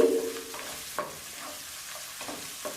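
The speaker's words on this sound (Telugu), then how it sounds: "అలాగే కొద్దిగా కరివేపాకును కూడా యాడ్ చేసుకుని ఈ ఉల్లిపాయలన్నింటినీ చక్కగా వేయించుకోవాలి" Chopped onions fry with curry leaves and salt in a pan, a soft, low sizzle with a few light stirring scrapes and taps.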